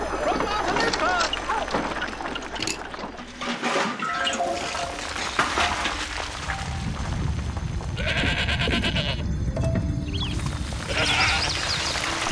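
Goats bleating in the ancient Greek city-builder game Master of Olympus: Zeus, with repeated short bleats over steady game ambience and background music, strongest toward the end.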